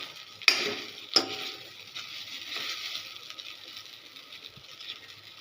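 Sabudana, soaked tapioca pearls, being stirred and dry-roasted in a pan over low heat gives a soft continuous scraping and faint sizzle, with two sharp knocks of the spoon against the pan near the start.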